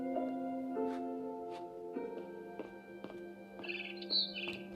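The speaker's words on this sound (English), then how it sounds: "Then I heard chirping outside my window. It was a barn swallow going back to her nest." A barn swallow chirps in the video game What Remains of Edith Finch, short bright tweets scattered over a steady tonal hum of background music, fairly faint and alone without talk.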